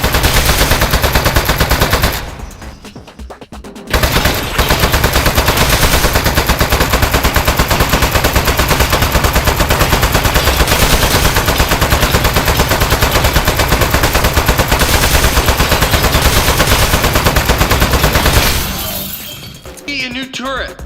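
Turret firing in the video game Aperture Desk Job, loud sustained rapid gunfire with shattering impacts, briefly breaking off, with speech over it.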